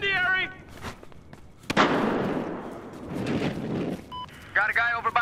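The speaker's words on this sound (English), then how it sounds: "Watch out, grenade!" A grenade goes off in Battlefield Hardline with a sudden loud blast that rumbles and decays over about two seconds, and a second burst of noise follows. Shouted voices come before and after it.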